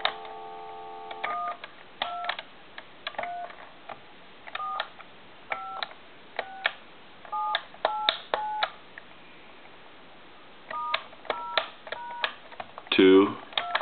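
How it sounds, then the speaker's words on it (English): A GTE telephone under repair sends a series of short touch-tone dialing beeps in irregular clusters, loud and close, ending in a brief handling clatter. "We're going to check our numbers here real quick."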